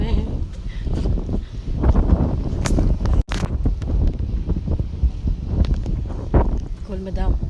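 Strong gusty wind buffeting the microphone at a seaside resort, a loud rumbling roar with bursts and crackles, while people talk over it.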